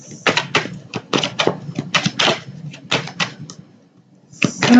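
Rapid, crisp riffling and slapping of tarot cards being shuffled close up, a flurry of sharp clicks and flaps with brief pauses between.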